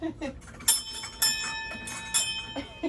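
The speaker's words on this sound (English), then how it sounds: "Can we get you ringing the bell?" A small bell rings out with sharp, bright strikes, three or four in an irregular rhythm, each ringing briefly over a quiet background.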